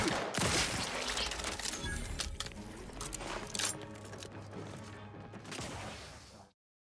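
A grenade launcher fires repeatedly in a video game, a dense run of loud blasts, thuds and metallic clatter over roughly six seconds before cutting to silence.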